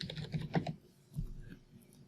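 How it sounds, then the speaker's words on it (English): Brief bursts of keystrokes on a computer keyboard, a few quick taps close by, then a pause and a couple more, fairly quiet. "So I'm going to type in webhook."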